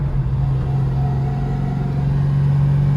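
A Ford Mustang GT accelerating uphill in second gear at about three-quarter throttle, a steady, loud low engine drone with a strong bass hum that stays level across three seconds, with no voices.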